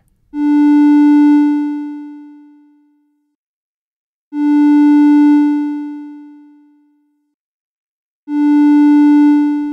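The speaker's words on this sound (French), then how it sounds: "si j'appuie une note, on entend la montée d'attaque durant une seconde" Three identical notes from an Arturia Modular V synthesizer, each swelling in gradually over about a second, then fading slowly to silence over about two seconds before the next begins.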